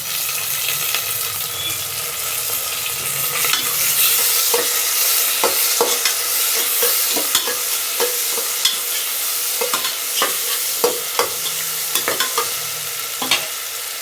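Food sautéing in a pan for mushroom biryani, a loud steady sizzle broken by repeated scraping clinks of a spoon stirring, close and without talk.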